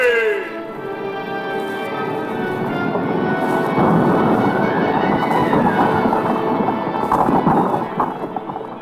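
Several horses gallop away as a recorded sound effect, with a dense, rumbling clatter of hoofbeats that builds, holds steady for several seconds and then begins to fade.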